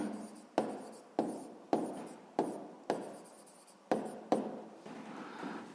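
Pen writing by hand on paper while working a 6th-grade maths exercise, close and clear, a series of short scratchy strokes in regular bursts with brief lifts between them.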